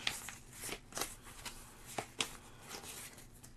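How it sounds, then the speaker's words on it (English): Train car cards shuffled by hand for a solo card game, a quiet sequence of crisp riffles and flicks close to the table, no talk. "since I'll shuffle those train cars"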